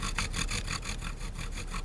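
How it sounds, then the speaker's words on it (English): A drill bores through a bead while water cools it, giving a steady rasping, grinding whir with a faint rhythmic pulsing, close and continuous throughout. "cool the bead as it's being drilled"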